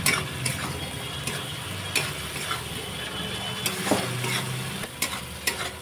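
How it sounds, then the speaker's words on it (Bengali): Spice paste for Bengali shol fish kalia fries in oil as it is stirred. Soft sizzling runs throughout, broken by a sharp scrape or clack of the spoon against the pan every second or so. "যতক্ষণ না তেল ছাড়ছে ততক্ষণ আমি কষতে থাকবো।"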